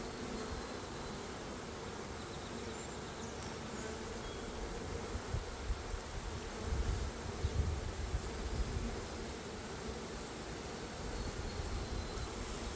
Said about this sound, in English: Look at all those bees, and they just come off so easy.